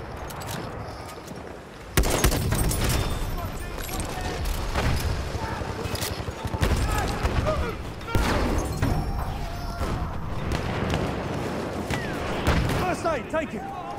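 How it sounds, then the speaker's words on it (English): Enemy machine gun fire in a multiplayer war video game on the Suez map, with dense bursts of gunfire and thuds running throughout, loud and continuous, under players' voices calling out to each other. "There, enemy machine gun."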